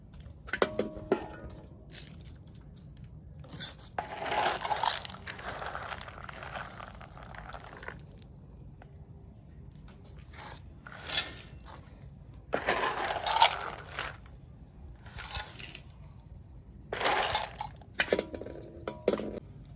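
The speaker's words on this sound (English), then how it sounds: "So right now, I'm going to pour in the groundnut." Groundnuts pour into a pan for bulk commercial frying in several bursts of rattling and clinking, separated by quieter stretches of faint scraping and background hum.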